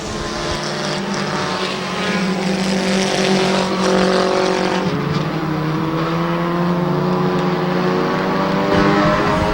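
Race cars roar around Twin State Speedway in Claremont, New Hampshire, a loud, sustained engine drone with several cars passing close and layered together, pitch rising and falling through the laps.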